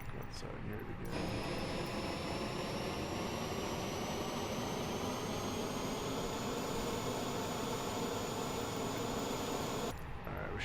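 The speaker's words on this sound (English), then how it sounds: "Beautiful engine sounds from fly-by-wire." Simulated jet engines of the fly-by-wire Airbus A320 in Microsoft Flight Simulator, a steady loud roar with a rising high whine, heard continuously for about nine seconds and cutting off abruptly at both ends.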